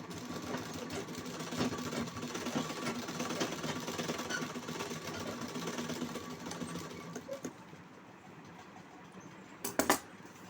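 Sewing machine stitching a blouse, a continuous low mechanical whirr at moderate level that fades toward the end and is followed by a brief clatter.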